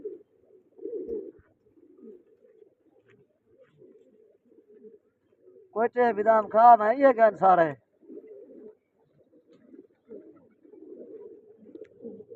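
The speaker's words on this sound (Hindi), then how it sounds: "माशाल्लाह कबूतर देखो प्यारे प्यारे हैं सही" Pet pigeons cooing in a burst of repeated, throaty, rolling calls close by, set between stretches of people talking quietly.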